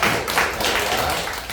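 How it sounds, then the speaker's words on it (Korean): Steady, dense applause from a church congregation, a continuous close wash of many hands clapping throughout the short stretch. "다시 한번 큰 박수로 드리겠습니다."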